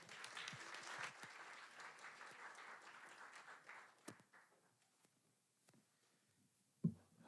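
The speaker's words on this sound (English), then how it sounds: "Let's give him a round of applause." An audience at a StorySLAM storytelling show gives a round of applause for the next storyteller. Moderate clapping fills the first few seconds and then dies away into quiet, with a single loud thump near the end.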